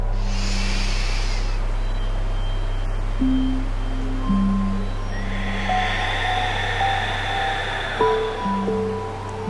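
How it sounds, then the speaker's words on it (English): A yoga class breathes ujjayi style, slow ocean-like throat breaths drawn as long soft hisses, with gentle sustained tones in the background and no speech. "Listening to the sound of the ocean at the back of the throat"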